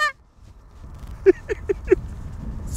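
Geese honk in an Idaho field during a goose hunt: four distinct calls, evenly spaced and moderately close, stand out against a quiet outdoor background.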